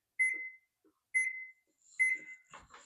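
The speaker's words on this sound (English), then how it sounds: "So we'll set the timer" A kitchen timer beeps three times in even, clear electronic tones, each a short bright chirp, followed by a brief faint rustle at the end.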